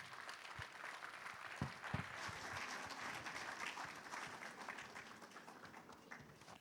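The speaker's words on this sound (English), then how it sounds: "Please, with a warm round of applause, let's receive Adegbite Falade." Conference audience at an energy-industry week giving a warm round of applause to welcome a keynote speaker, a broad, sustained wash of many hands clapping in a large hall, fairly distant and even.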